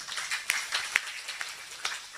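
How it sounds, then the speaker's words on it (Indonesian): Scattered, thin clapping from a small audience at a gathering, a handful of distinct hand claps spread unevenly over about two seconds, faint and without voices. "Tepuk tangan dulu."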